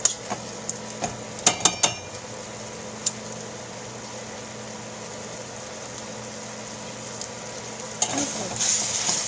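Carne asada beef browns in a hot pan that still holds onion juices, giving a steady, close sizzle with a few utensil clinks near the start and a louder burst of frying toward the end.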